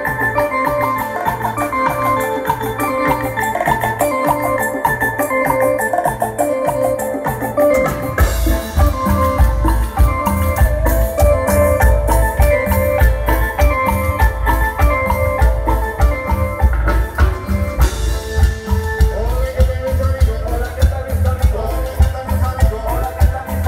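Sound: live band with digital piano playing Colombian medley

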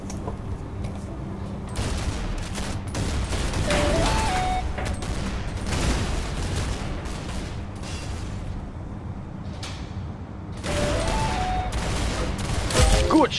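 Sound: gunfire in a video game

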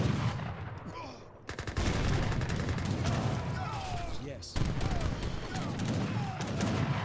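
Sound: heavy cannon and gunfire in Age of Empires 3 video game

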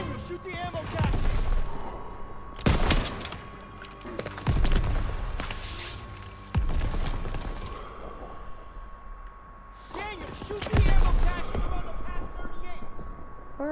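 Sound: gunfire in video game Call of Duty: WWII

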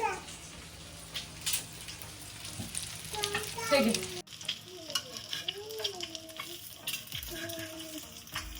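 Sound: frying in oil in a pan

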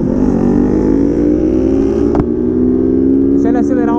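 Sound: motorcycles accelerating, Kawasaki Ninja and Honda CG Fan 160

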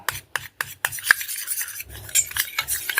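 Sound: stirring white toothpaste with ginger juice

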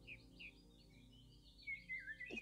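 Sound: birds singing in spring by a lake

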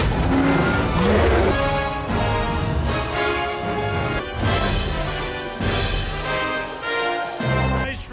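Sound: cars racing, from the movie Ready Player One

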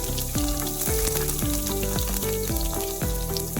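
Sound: sliced ginger and garlic frying in oil

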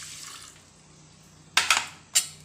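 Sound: water and coconut milk poured into pressure cooker with rice

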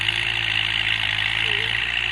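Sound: tractor engine idling

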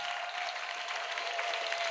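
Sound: audience applause

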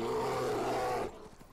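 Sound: bear roaring in the video game Skyrim

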